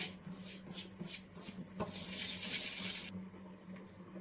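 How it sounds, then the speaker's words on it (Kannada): Water is poured into a bowl of semolina and flour for dough, a splashing flow that swells into a steady rush for about a second before cutting off, with faint rhythmic handling sounds beforehand. "ಇವಾಗ ನೀರು ಹಾಕ್ಕೊಂಡು ಕಲಿಸ್ಕೊಳ್ಳೋಣ."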